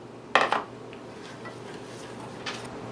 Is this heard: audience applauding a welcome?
no